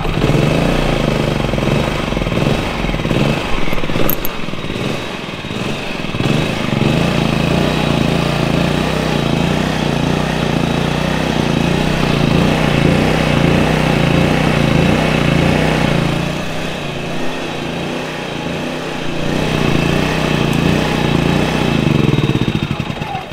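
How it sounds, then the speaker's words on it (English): A generator engine, started for the first time in six years after breaking when last used, runs loud and steady with a rough chugging rumble throughout, slight dips midway, no talk. "So yeah, it runs fine."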